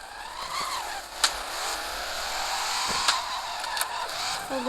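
A black car drives past on a road, its engine and tyre noise forming a steady, fairly loud wash with a few sharp knocks or clicks, and no talk over it.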